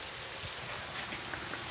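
Heavy rain falling outdoors, a continuous soft hiss of drops striking the ground, faint and steady with no voices.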